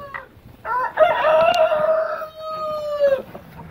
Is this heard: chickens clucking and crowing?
yes